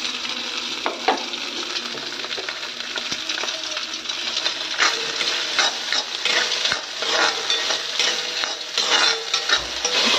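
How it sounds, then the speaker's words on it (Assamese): Rice with browned onions fries in a pan, a continuous close sizzle broken by frequent clinks and scrapes of a spatula stirring and tossing the grains, growing busier and louder in the second half. "মই ভাজিম ভাতখিনি মই"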